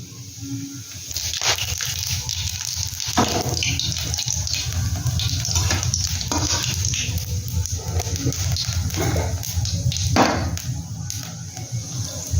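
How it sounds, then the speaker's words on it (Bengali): Whole garam masala and fennel seeds crackle and sizzle in hot oil, a steady close frying hiss dotted with sharp pops and spits throughout. "আমি এখানে কিছু গোটা গরম মশলা দিয়ে দিচ্ছি, আর এই যে আমি মৌরি ফোড়ন দিয়ে দিলাম।"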